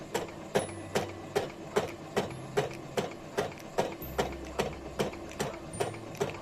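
A domestic sewing machine stitching thin fabric with a universal size 70 needle, a steady rapid mechanical thumping at about two beats a second, close and even, alone without talk.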